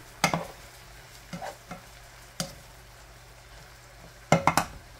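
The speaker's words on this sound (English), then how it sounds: "Let me stir that around in the mixture real quick." A spoon stirring apple cider vinegar into a sausage mixture in a pan: a few scraping clacks against the pan at irregular intervals over a low sizzle, close by, with no talking.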